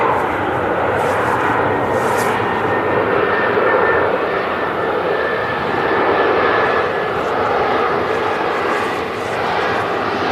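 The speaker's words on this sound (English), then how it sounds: "This Ryanair 737 MAX 8200 coming in from Dublin today." A Ryanair Boeing 737 MAX 8200 arriving from Dublin lands at Manchester Airport, its engines giving a loud, continuous roar that holds steady throughout, with reverse thrust slowing it.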